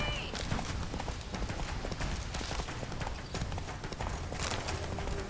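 Rapid, continuous hoofbeats of the horse Roach galloping in a Witcher video game, steady and busy under a dense wash of game sound with a voice speaking.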